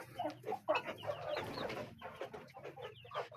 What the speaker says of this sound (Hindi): बाकी मुर्गियाँ शुर्गियाँ ये है सारी।